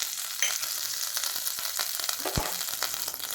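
Oil and butter sizzle steadily as mustard seeds, cumin and onion fry in a pan, a close, continuous crackling hiss with brief pops and scattered spits throughout.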